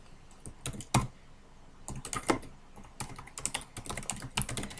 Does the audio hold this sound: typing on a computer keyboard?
yes